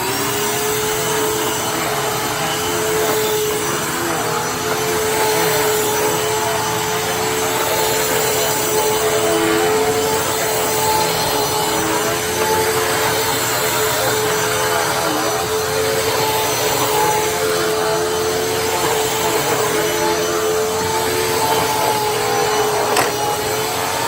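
A Hoover WidePath fold-away upright vacuum cleaner, model U5175-900, runs continuously with a steady motor whine and airflow roar, loud and unbroken, with no talking.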